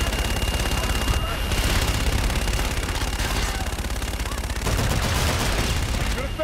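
Sustained gunfire barrage in Call of Duty: Infinite Warfare on PC, dense continuous shots and booms filling the whole stretch, loud and steady with brief radio-style voices mixed in.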